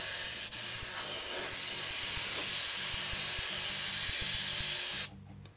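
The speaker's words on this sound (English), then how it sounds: "I'm spraying at 65 PSI." A compressor-fed spray gun applying liquid mask at 65 PSI lets out a loud, continuous airy hiss for about five seconds, then cuts off abruptly into quiet.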